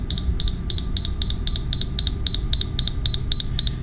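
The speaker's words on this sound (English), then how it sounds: "when you get to something that's transmitting wirelessly, it's going to beep at you" Counter Tek Ultra Pro bug detector beeping in a fast, steady run of about fifteen short, identical high tones over a low hum, signalling a nearby wireless transmitter.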